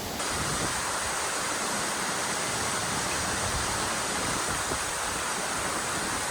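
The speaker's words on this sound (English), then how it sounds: "I love a waterfall, guys." A waterfall in the Dolomites near Colfosco pours with a steady, loud, unbroken roar that stays even and fills the whole scene with no talk over it.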